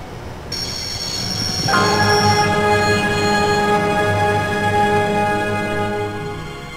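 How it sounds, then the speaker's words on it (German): A train grinding to a halt in the adventure game Baphomets Fluch, with loud sustained metallic brake squeal and ringing tones rising over a rumbling carriage, no voices. "Ich habe mir schon immer gewünscht, mal einen Zug anzuhalten."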